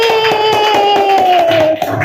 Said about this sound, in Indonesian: tepuk tangan untuk kelompok komunikatif